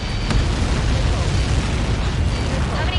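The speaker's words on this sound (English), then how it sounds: "How many got caught in that explosion?" A massive projectile impact explosion in the flight combat game Ace Combat 7, a loud, sustained roaring blast rumble that fills the whole span without letup.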